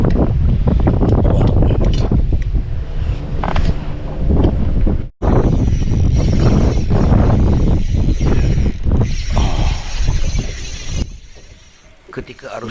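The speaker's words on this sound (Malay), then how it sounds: "angin sangat kuat bang" Strong wind blows across a river, roaring and buffeting the microphone in loud, uneven gusts with a sharp break partway through, while someone talks over it.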